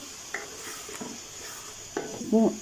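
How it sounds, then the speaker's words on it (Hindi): Chicken with spices sizzles softly in a pan over medium heat while a spoon scrapes and stirs, with a few clinks of metal against the pan. "इसे मीडियम आंच पे अच्छे से भून लेंगे चिकन को"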